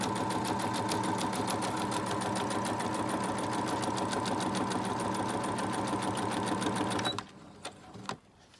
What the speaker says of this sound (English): It just had a sound of, you know, when the bobbin thread runs out